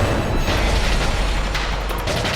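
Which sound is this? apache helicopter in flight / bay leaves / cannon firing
cannon firing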